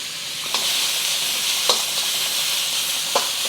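Onions fry in two to three tablespoons of hot oil in a wok, giving a loud, even, close-up sizzle. A few soft stirring knocks punctuate the hiss.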